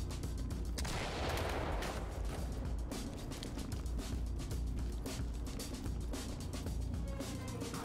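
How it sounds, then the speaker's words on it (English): A flashbang grenade goes off in the tactical shooter Ready or Not: a loud, sharp blast that rings out over a steady wash of gunfire and action noise. "Okay, readying flashbang."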